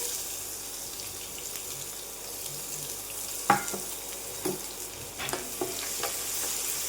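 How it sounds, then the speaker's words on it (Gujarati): Chopped onion sautéing in a pan with cumin and asafoetida, a soft steady sizzle broken by a few louder scraping stir strokes from a spatula later on. "અને ડુંગળીને આપણે સરસ રીતે સોટે કરી લઈશું."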